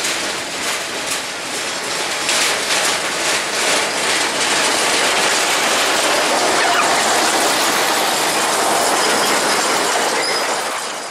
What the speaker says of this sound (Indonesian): kereta lori sudah melewati jalan raya di daerah Keting ini mengarah ke sini